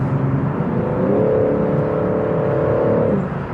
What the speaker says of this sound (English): The engine sounds great on the inside.